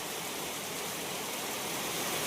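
Heavy rain drumming on an asbestos roof late at night during a storm, a dense continuous broadband roar with no breaks.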